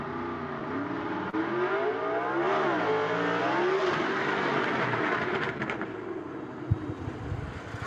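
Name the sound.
gasser drag race car engine running at dragway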